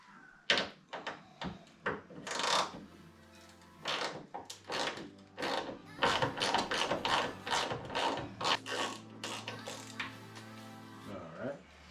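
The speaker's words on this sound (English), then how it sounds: "we're gonna break loose the bottom bolt on the bracket" A wrench breaks loose and turns a bolt on the hood strut bracket of a GTR 33 (Skyline R33), with a series of close metallic clicks and knocks, some rapid ratcheting, and a low hum underneath.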